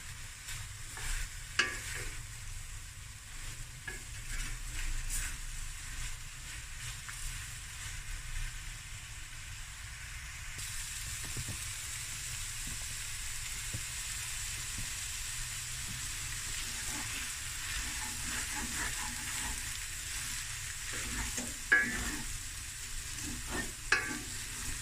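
Prawns fry in a pan with a soft, steady sizzle and hiss that runs throughout, broken by a few light clinks and stirring scrapes. No one speaks.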